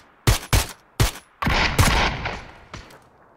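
Gunfire in PUBG (PlayerUnknown's Battlegrounds): three sharp separate shots, then a denser burst of overlapping rounds and one last crack, loud and close with short echoing tails.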